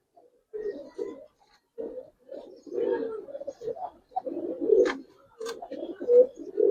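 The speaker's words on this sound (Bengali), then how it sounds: "অপূর্ব কবুতর" Pigeons coo in repeated throaty bursts, close and fairly loud, with brief gaps between phrases.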